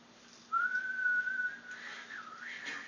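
A person whistles a short, wavering tune, starting with a long steady note then sliding up and down, faint and close.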